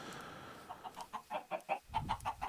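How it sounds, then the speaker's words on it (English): Chickens in the Minecraft video game cluck in a quick run of short, evenly spaced clucks, several in a row and growing a little louder, with no talking. "that's a lot of chickens"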